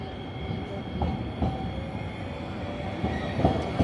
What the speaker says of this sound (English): We hopped on a tram.